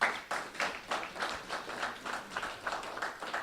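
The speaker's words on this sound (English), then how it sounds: "Give yourselves a round of applause." Members of a college men's basketball team clap for themselves at a press event, a steady patter of many hands at moderate distance that pulses in waves and carries on for a few seconds.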